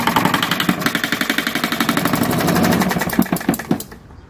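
A desktop injected diesel model engine running on a table, a close, loud, rapid steady chugging knock that loosens into slower, uneven firing beats before cutting out abruptly near the end.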